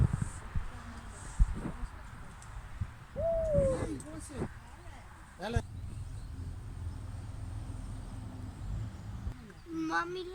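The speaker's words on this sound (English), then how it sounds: "Look at this owl. African wood owls." An African wood owl at a birds of prey centre in Dullstroom, South Africa, gives a few hooting calls amid outdoor noise. People talk nearby, and the owl sounds are intermittent and fairly faint.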